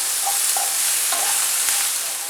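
Onions with salt sautéing in a pan, giving a steady, close hiss of sizzling throughout, with a few soft scraping stirs and clinks of a utensil against the pan.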